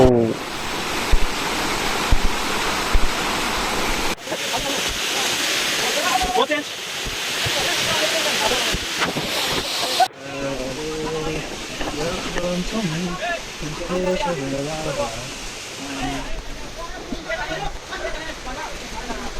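Rushing waterfall roar at Sitakunda fills the scene, a dense steady splash of falling water with people talking and shouting over it nearby.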